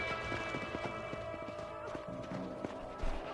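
Horse hooves clip-clop in a steady rhythm in the western video game Red Dead Redemption, with a faint whinny and a low musical drone underneath.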